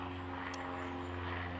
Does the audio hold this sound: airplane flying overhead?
yes